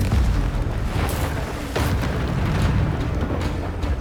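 Explosive Confringo blasting spell in the Hogwarts Legacy video game on PS5, heard as a dense, continuous roar of booming blasts with sharper cracks near the one- and two-second marks, loud and without talk.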